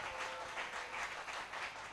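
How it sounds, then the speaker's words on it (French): A church congregation applauding for Jesus, steady dense clapping from many hands in waves, moderately loud and filling the whole stretch without talk. "Applaudis pour Jésus."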